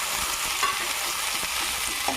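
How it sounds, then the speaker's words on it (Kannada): Tomatoes fry for North Karnataka-style misal, giving a steady, close, dense sizzle with faint stirring scrapes and no voices. "ಇದು ಚೆನ್ನಾಗಿ ಫ್ರೈ ಮಾಡಿ."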